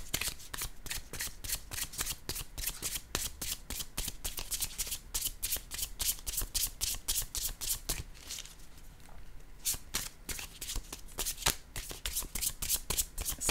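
A new deck of oracle cards being shuffled by hand, a steady run of crisp riffling flutters and soft card slaps that continue close and clear for the whole stretch with only a brief quieter gap midway.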